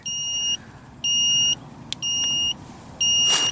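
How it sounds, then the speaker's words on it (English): Four steady electronic beeps from a GOOLOO jump starter signalling it is ready, each about half a second long, repeat at an even pace over a low background hum. A soft click and a brief noise burst fall between them. "It's beeping, it's telling me it's ready."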